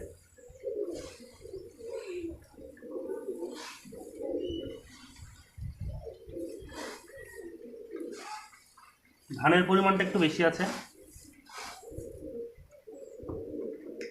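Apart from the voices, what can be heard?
pigeons cooing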